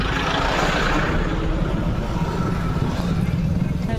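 Heavy jammed road traffic in a crowded street near a temple, a dense, steady wash of engines and vehicle noise with voices talking throughout.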